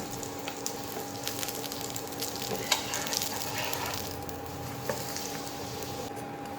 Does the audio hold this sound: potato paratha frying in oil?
yes